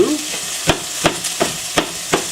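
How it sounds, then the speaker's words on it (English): Sesame ginger beef stir-frying in a pan, with a constant sizzle broken by sharp, evenly spaced scrapes of a utensil, roughly three strokes a second, close and clear. "You want to stir fry this up a little bit."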